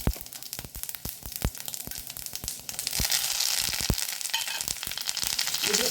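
Mustard seeds and cumin dropped into about two spoons of hot oil for a Udupi temple-style pumpkin koddel, with sharp irregular pops and crackles that build into a steady close sizzle.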